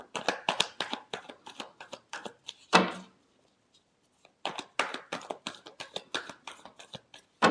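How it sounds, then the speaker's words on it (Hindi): A deck of tarot cards is shuffled by hand in rapid papery riffles and taps, pausing briefly with a single louder slap before another run of brisk shuffling. "Last shuffle."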